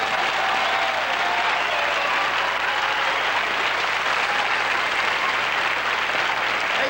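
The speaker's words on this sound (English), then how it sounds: "Can you hear this applause when I mentioned your name?" Sustained audience applause at the 1986 Jerry Lewis Muscular Dystrophy Telethon in Cleveland, a dense, steady roar of many hands clapping at even loudness throughout, with no break.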